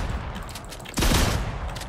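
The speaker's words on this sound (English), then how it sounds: "Two shot shotgun." A shotgun fires in the video game Fortnite during Horde Rush, one loud, booming blast about midway that rings out over a steady bed of game noise.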